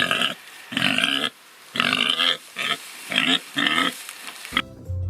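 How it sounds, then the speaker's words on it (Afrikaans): Pigs grunt and snort in about six loud, rough bursts separated by short pauses, close to the listener, followed by a brief low noise at the very end. "Varke kan nou wel nie vlieg nie, maar hulle kan snork en knor"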